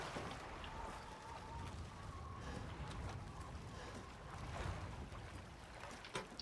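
A small boat's engine in the video game Resident Evil Village runs with a low, continuous churning drone over lapping water and wind, fairly faint and steady throughout.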